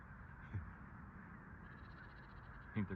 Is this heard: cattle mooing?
no